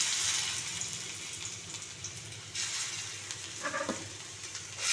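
Oil hissing on a hot dosa griddle in a home kitchen where fish is being fried: a steady broad sizzle with watery gushes, one brief clatter near the end, no voices.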